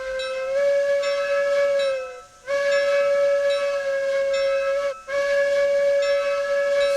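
A steam locomotive whistle in the RailRoads Online video game sounds three long, loud, chime-like blasts with short breaks between them, each one trailing into a reverberant tail.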